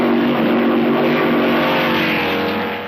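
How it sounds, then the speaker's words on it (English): 1953 Formula 2 race cars, including the Maserati 250F, roaring past in a loud, steady engine blare on an old, slightly muffled recording, fading a little at the end. "This 1953 Formula 2 race has the new 250F Maserati, driven by Gonzalez"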